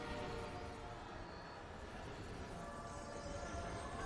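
Steady rumbling of a train in the Edge of Fate expansion video game, a continuous broad roar that holds at an even level throughout with no voices.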